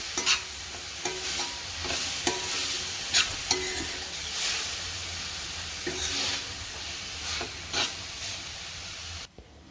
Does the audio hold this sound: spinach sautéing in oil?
yes